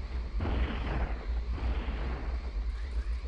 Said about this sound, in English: let's fire the full beam